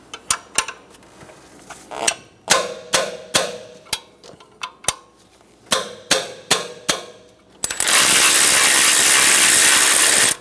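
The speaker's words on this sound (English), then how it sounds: "Using a 15mm wrench, we're going to remove the bolt." A 15mm ratcheting wrench loosening a bolt on a 1988-1999 GMC K1500 truck with a 5.7L V8, sharp metallic clicks in quick bursts and clusters, close by, ending in a sudden burst of loud hiss-like noise.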